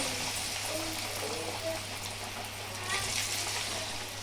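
Sorakaya appalu (bottle gourd fritters) dropped into hot oil, a continuous crackling sizzle with bubbling spatter, a brief louder burst near the end, while someone talks over it.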